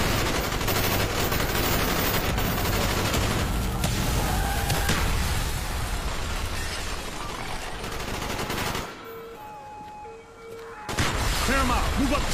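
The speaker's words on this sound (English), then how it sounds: "Bowman, Carlos, lay down covering fire." Sustained covering gunfire during a street fight in Call of Duty Black Ops: dense, rapid automatic bursts and booms, loud and close, briefly dropping to a quieter lull before erupting again, with voices shouting over it.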